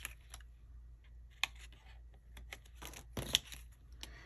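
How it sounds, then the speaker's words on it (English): Scissors cut slits into binder pages, giving faint, sparse snips and small paper rustles close by in a quiet room. "And I'll cut slits in them so I don't have to open my rings."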